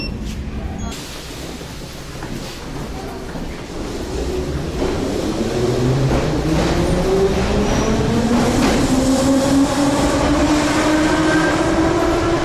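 A train rumbles and rises in pitch as it pulls away from a railway station in Ukraine, its steady roar building louder with a faint rhythmic clatter.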